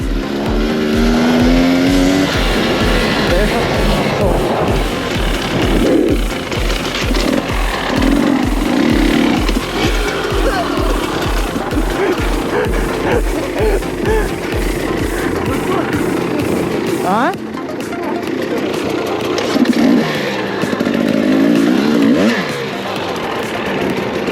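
Husqvarna 300 two-stroke motorcycle on its first test ride, a loud close engine with rapid pulsing revs rising and falling, wind noise and brief shouts over it.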